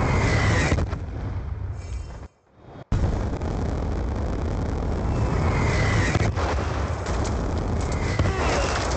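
A Hellstorm missile strike detonates in a video game as a massive sustained roar of explosions and rumbling blasts, broken by a short near-silent gap before the loud barrage resumes.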